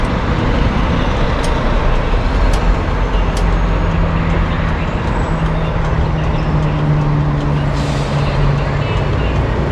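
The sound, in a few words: garbage trucks running nearby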